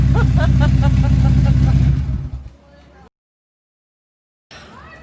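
A 2009 Subaru WRX with a twin scroll turbo engine held high in the revs, a loud steady drone close by, then dropping away quickly and cutting off into silence, with a voice faintly over it.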